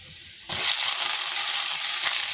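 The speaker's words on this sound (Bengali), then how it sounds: "রসুনটা একটু লাল লাল মতো হয়ে গেলে তার উপরে পেঁয়াজ দিই" Onions dropped onto garlic already frying in a pan for chicken curry set off a sudden loud burst of sizzling that then stays steady and close, with no talking.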